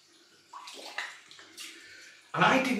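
Water runs and splashes in a basin while a man rinses during a wet shave, with uneven swishes that end in a louder rush of water.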